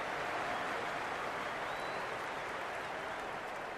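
A stadium crowd in Cricket 26 keeps up a steady, distant roar of cheering and applause, an unbroken wash of crowd noise at moderate level.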